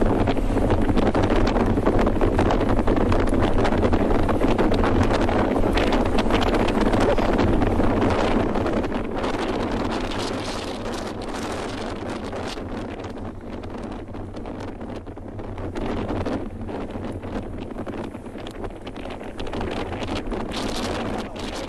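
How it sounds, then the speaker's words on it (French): Loud, strong wind from Tropical Storm Ernesto in Guadeloupe, beside the sea, roars and buffets continuously, easing slightly partway through before gusting on, with a deep rumbling undertone. "Le vent souffle très fort, messieurs, dames, extrêmement fort"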